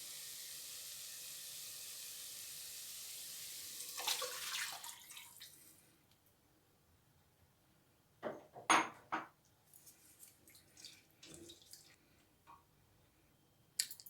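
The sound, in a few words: water being poured into the soup pot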